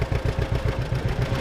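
A 1948 two-cylinder John Deere Model A tractor engine runs close by with a loud, low, steady pulsing chug, its rapid even beats carrying clatter throughout.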